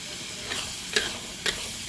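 Mujair fish fries in a pan with a continuous soft, close sizzle, broken by three brief sharp ticks spaced about half a second apart.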